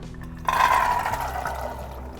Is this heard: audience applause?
no